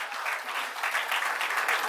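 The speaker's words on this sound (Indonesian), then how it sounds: "Kita bagi tepukan kepada semua." An audience at a corporate recognition day and product launch applauds, a dense, steady wash of clapping throughout the short stretch.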